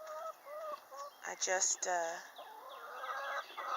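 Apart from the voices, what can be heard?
backyard chickens clucking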